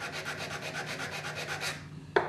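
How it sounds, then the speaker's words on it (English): Hard sanding block rubbed across the end grain of a timber piece held in a vise, a close rhythmic back-and-forth rasping of about a dozen strokes, then a brief knock. "Sand it across the end, again using the hard block."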